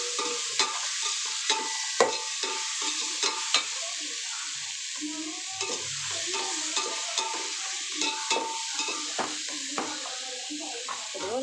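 Tomatoes fry in a pan for a Sunday biryani, a soft steady sizzle punctuated by regular light clinks and scrapes of a spoon stirring, with quiet background voices.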